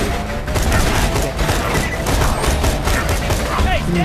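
Dense, continuous gunfire in the video game Borderlands 2: rapid overlapping shots and booms crackle loudly throughout, with excited voices talking over the barrage.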